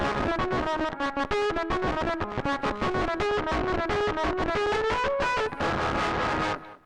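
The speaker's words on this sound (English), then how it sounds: "If anything, it's just CV-controlled distortion, just CV-controlled dirt, especially if you are mixing this in parallel with a clean signal." EarthQuaker Devices Wave Transformer module giving CV-controlled distortion on a synth line, a loud, continuous gritty melodic sequence of rapid notes with fuzzy harmonics and wavering timbre, playing alone with no talk.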